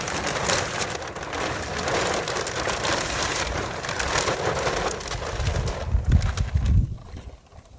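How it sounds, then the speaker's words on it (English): A plastic tarp is dragged off a garden bed outdoors, giving a continuous crinkling, rustling scrape with a few heavier thumps near the end and no talking. "we're just going to take the tarp off here"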